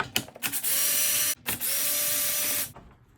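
A cordless drill whirs in short bursts removing bolts from a Briggs lawnmower engine, then two longer sustained runs, close and loud, with a mechanical ratcheting edge.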